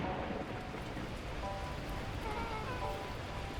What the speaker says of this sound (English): unleashing torrential rain.